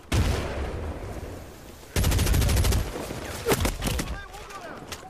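Bursts of rapid gunfire crackle in quick succession, some sharp single shots among them, in the video game Medal of Honor, with someone talking over the shooting.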